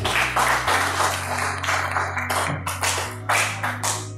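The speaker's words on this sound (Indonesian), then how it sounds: "Sebelumnya tepuk tangan untuk Bapak." A few people clap during a district development planning meeting, sparse rhythmic claps close by over a low hum rather than full applause.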